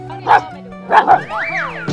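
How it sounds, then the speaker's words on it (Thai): A dog barks twice in quick, loud bursts, then lets out a rising, wavering whine, close by and with no other sound. "จูเนียเห่า"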